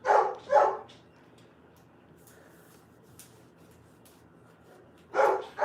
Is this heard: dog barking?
yes